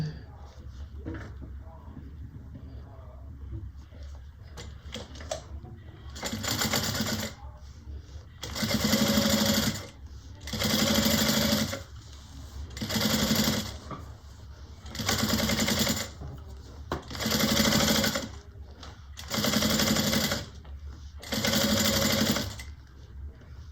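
A sewing machine runs a basting stitch while holding bag layers together, in about seven close, steady buzzing bursts of rapid needle rattle separated by short pauses, with a person talking quietly before and between runs.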